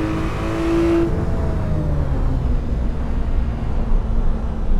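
A car in the Assetto Corsa racing game drives along Topanga Canyon Road, its engine droning loudly and continuously with road and tyre noise, a brief higher whine fading early on.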